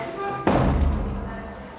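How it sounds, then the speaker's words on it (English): A door slams shut with one solid thud, and voices talk around it. "I'll slam the door on your way out."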